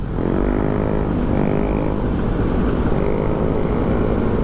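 Road traffic flowing in Amparo, a continuous loud engine drone from passing vehicles close by, with a rising and falling motor hum and no voices.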